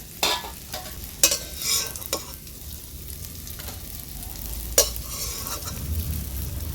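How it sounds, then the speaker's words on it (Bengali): Rice is stirred lightly in a pan while banana-flower muri ghonto is made. Several sharp scraping strokes of a spatula come at irregular intervals over a soft sizzle, and no voices are heard. "চালটাকে আমি হালকা নেড়ে চেড়ে তুলে নেব।"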